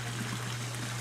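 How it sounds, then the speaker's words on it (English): Water flows steadily through a stream beside a koi pond in icy winter conditions, a constant close rushing wash with a low hum beneath. "We still got water flowing through the stream, which is good."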